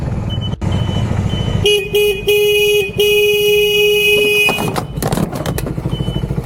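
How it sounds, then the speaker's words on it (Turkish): A car horn honks at a motorcyclist in several short and long blasts, loud and close, over the rumble of a running engine and traffic. "Kornaya basıyorum sana ya."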